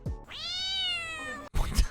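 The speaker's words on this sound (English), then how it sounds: "Oh man, Tyron is afraid of stray cats." A stray cat lets out one long, drawn-out meow that holds steady and close, followed by a brief burst of rustling and thumping.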